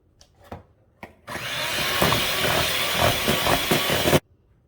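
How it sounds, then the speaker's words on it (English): An electric mixer beats cake batter in a bowl, giving a steady loud whirring with a gritty, scraping texture that runs for about three seconds and then stops abruptly, preceded by a few soft clicks. "I'm going to turn my mixer on"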